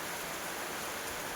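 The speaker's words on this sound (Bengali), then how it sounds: "চলো তোমাদেরকে দেখাই কেমন বৃষ্টি হচ্ছে" Heavy morning rain pours down outside during a stormy spell, a dense, even roar of broadband hiss that stays constant and loud throughout.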